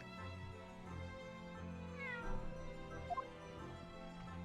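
A cat meows in the Great Ace Attorney 2 video game, a drawn-out mewing call over steady background music, followed by a couple of brief softer sounds.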